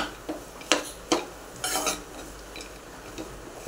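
A spoon stirs a sticky mixture of dates and dry fruits in a pan, several distinct scraping knocks and clinks against metal in an uneven rhythm over a faint low sizzle.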